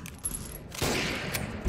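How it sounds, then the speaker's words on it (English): Gunfire in CS:GO as shots strike the floor, a short burst of rapid cracks and clattering impacts following a quieter lead-in, fairly close and with no talking. "Why is he shooting the floor?"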